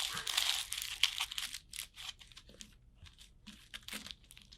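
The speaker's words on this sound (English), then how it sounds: "Crumple it up." Aluminum foil is crumpled by hand up close, a run of crisp crinkling and crackling bursts that are denser at first and then thin out into scattered rustles, with no talking.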